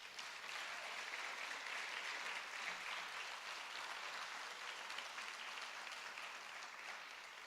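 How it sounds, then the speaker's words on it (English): Steady, dense applause from an audience at a Floyd Central High School 12th grade awards ceremony, continuous clapping filling the room without a break for several seconds. "So let's give him a round of applause."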